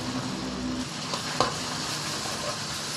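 Marinated pork and garlic stir-frying in a pan over medium heat, a close, continuous sizzle with a brief clatter of the spatula midway.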